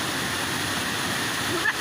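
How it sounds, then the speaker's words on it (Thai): Waterfall crashing over rocks in a natural setting, a steady broadband roar of rushing water close by, continuous for the whole stretch with a slight splash near the end. "เสียงน้ำเสียงน้ำไหล จากธรรมชาติ กระทบโขดหิน"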